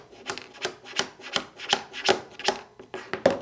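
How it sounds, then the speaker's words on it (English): Hammer tapping a pin punch to drive a trigger pin into a Springfield SA-35 pistol frame on a tabletop, a run of about eight sharp, evenly spaced metallic taps heard up close with no talking. "give that pin a few taps with my hammer"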